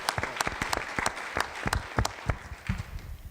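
An audience bursts into applause, with uneven individual claps blending into a moderate round of clapping from a room full of people.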